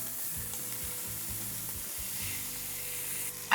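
A pot roast browns in a hot pot with a close, steady sizzle and hiss. Soft stirring and knocking break in at irregular moments, and a brief louder clatter comes at the end, with no voices.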